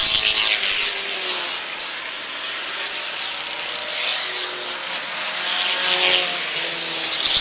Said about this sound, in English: Is this car back out there, Rob,